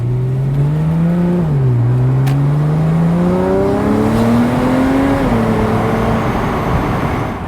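A 2009 Porsche 911 Carrera 4S (997.2) engine with a free-flowing max-flow exhaust revs and pulls steadily, its deep droning note climbing through the gears, close and loud.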